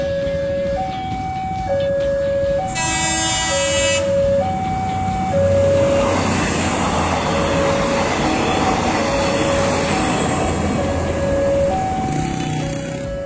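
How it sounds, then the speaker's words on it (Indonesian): A high-speed rail feeder train passes a level crossing in Bandung, its horn sounding in steady alternating two-tone blasts over a loud rolling rumble and wheel noise, with a brief bright bell-like clanging partway through. "dari arah timur melintas feeder kereta cepat dengan tujuan akhir stasiun kereta cepat Padalarang"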